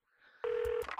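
A single phone keypad tone sounds in Saints Row: The Third, rising out of quiet into a short steady electronic beep followed by brief clicks.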